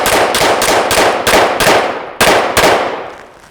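A pistol fires about eight sharp, loud shots in quick succession, each cracking and ringing out with a short echoing tail, then a pause and two more, fading at the end.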